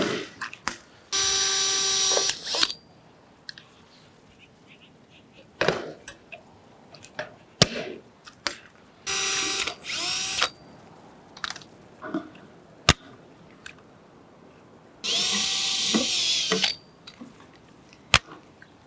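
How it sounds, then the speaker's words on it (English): A pop-rivet tool works a rivet through drilled metal in several short, loud mechanical bursts, each about a second long, with small clicks and handling knocks between them. "Go ahead and pop the rivet in."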